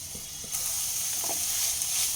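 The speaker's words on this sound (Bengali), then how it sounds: "মেথি শাক থেকে বেশ খানিকটা জল বেরিয়ে এসছে এই জল শুকিয়ে আসা পর্যন্ত অনবরত নাড়াচাড়া করতে করতে রান্না করে নিতে হবে" Fenugreek leaves (methi) sizzle in a pan as their released water cooks off, a loud continuous hiss with a few soft scrapes from stirring.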